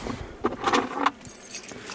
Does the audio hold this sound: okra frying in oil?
no